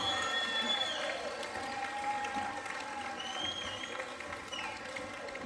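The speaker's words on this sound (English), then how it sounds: "One more round of applause for Hernando DeSoto and the royal family." Crowd applause and cheering at a coronation ball for Hernando DeSoto and the royal family, steady and sustained throughout, with some voices mixed into the noise.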